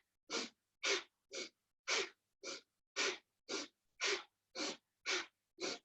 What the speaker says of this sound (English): it's fire breath, not Kapalabhati breath